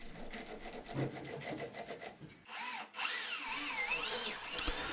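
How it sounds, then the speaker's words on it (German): A 40 mm Forstner bit grinds and rasps into wood, followed by a higher whining spin as the bit cuts, steady and close. "Für die Bohrung braucht man einen 40 mm Forstner Bohrer"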